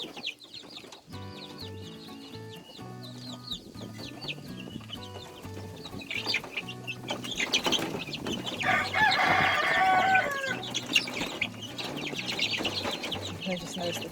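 A backyard Oklahoma coop with five hens and a rooster, busy with overlapping clucks and chatter that swell louder midway into a crowing call, with some wing flapping and a voice speaking in the background.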